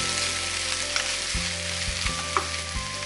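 Sweet and sour pork frying in a pan is stirred slowly, a steady sizzle with a few soft scrapes and a low hum in the background, no talking.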